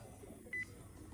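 A car parking assistant sensor gives one short, clear electronic beep over a low background hum.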